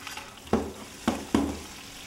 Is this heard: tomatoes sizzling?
yes